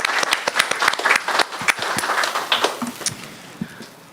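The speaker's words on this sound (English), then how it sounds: "let's just give the team a round of applause" An audience at a board meeting breaks into dense, close applause for about four seconds, loud at first and then thinning slightly toward the end.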